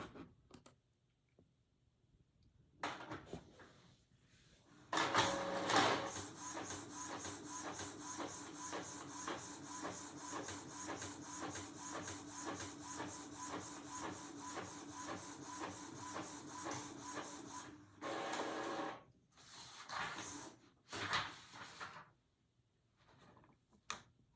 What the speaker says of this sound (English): And I'm going to push print.